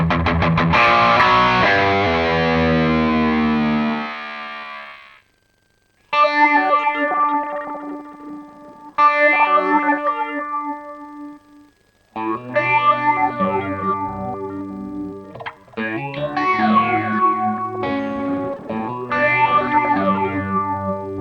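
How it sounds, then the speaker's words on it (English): An electric guitar runs through a synthesizer with a high-pass filter swept by an expression pedal. Sustained distorted chords thin out and swell back as the filter moves, with separate phrases broken by short gaps. "The expression pedal can also be connected to a high-pass filter, which sounds like the guitar is gradually gaining or losing power."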